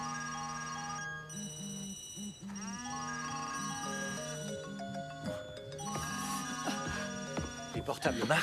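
Several mobile phones ringing at once, overlapping electronic ringtones and tonal trills layered continuously, with voices speaking over them.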